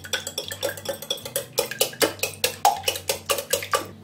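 Eggs being beaten in a bowl, a fast, steady run of close clinking taps as the utensil strikes the sides in an even rhythm.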